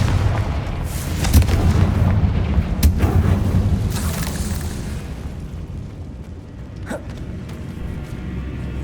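A Confringo spell explodes in the Hogwarts Legacy video game with a heavy booming blast, followed by a rumbling decay and a second, sharper burst near the end.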